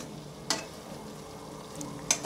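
Green onion and potato curry stirred in a pan over a quiet background sizzle, with two short, sharp utensil scrapes, close by and without talk.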